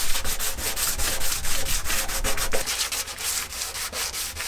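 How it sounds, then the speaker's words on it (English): Steady abrasive rubbing of 80-grit sandpaper across the bed of a 1986 Toyota 4Runner truck, with repeated back-and-forth strokes, fairly close and continuous, and no talking. "So here I'm going over again with 80 grit."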